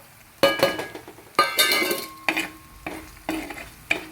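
Spice powders tipped into sizzling masala in a pan for stingray curry, with bursts of frying hiss and repeated clinks of a spoon stirring against the pan, close and fairly loud.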